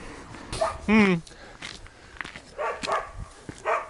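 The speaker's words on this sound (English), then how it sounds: "More scary dogs." Dogs bark briefly in a neighbourhood of Banska Stiavnica, Slovakia, with one short, sharp yelp-like bark standing out amid footsteps and a person talking nearby.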